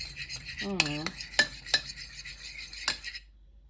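A utensil stirs sriracha into mayonnaise in a bowl with quiet scrapes and a few sharp clinks against the dish, close and otherwise silent.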